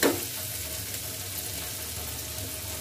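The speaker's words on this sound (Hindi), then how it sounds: "तो अब चम्मच चलाते हुए मैं इस मसाले को भून रही हूँ।" A ground spice masala with coarsely ground seeds and nigella roasts in oil, giving a steady, fairly loud sizzle that opens with a brief clack of a spoon.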